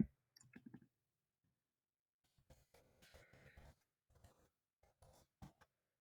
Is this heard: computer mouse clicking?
yes